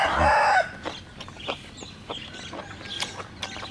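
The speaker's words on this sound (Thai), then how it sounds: "ต้องเสียงไก่ขันมันพี่น้อง" A rooster crows once, loud and close, followed by softer clucks and scattered bird chirps in the background.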